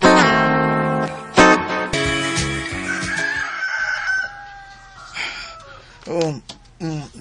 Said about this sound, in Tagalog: Mituktugaok ng akong manok.